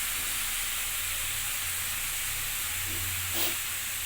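Fish head and cabbage curry with green chilies steadily sizzling and hissing in a pan, a continuous close frying noise with a brief louder spit near the end.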